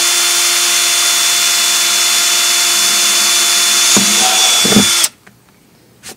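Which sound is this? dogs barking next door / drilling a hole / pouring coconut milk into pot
drilling a hole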